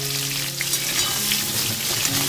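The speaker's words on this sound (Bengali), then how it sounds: "এবারে আমি এই তেলের মধ্যে ভেজে নেব পটল।" Salted pointed gourd (potol) fries in hot oil in a kadai for a prawn curry, a loud, steady sizzle that runs unbroken with faint stirring scrapes.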